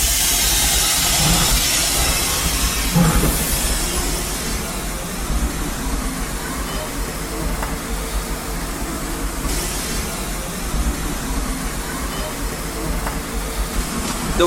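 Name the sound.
steam hissing from steam locomotive engine at Disneyland Paris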